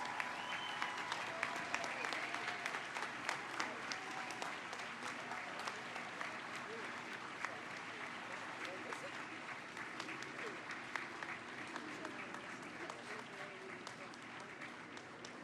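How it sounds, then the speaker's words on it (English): Audience applause at a monument unveiling, sustained clapping from a large outdoor crowd, steady and fairly distant, with scattered voices and cheers mixed in throughout. "join me in giving these pioneers, these brave individuals, the praise and the applause that they deserve."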